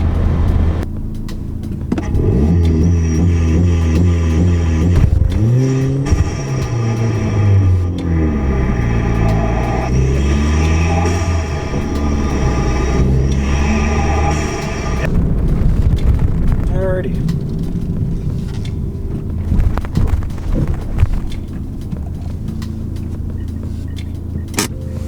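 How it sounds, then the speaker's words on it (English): A 2017 Ford Fiesta ST with an aftermarket intake revs hard, its engine note rising and falling through several loud pulls with turbo boost whooshing, followed by a rougher idle and wind noise. "It makes boost really loud, as you could probably tell."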